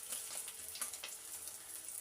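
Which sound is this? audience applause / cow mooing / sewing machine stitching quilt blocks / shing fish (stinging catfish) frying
shing fish (stinging catfish) frying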